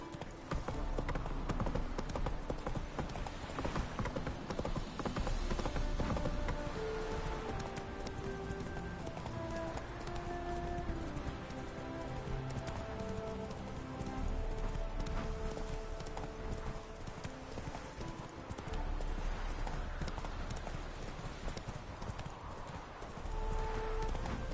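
Roach the horse gallops through The Witcher 3, hooves clip-clopping in a fast continuous rhythm over a dense, loud game soundscape with faint ambient texture and no spoken words.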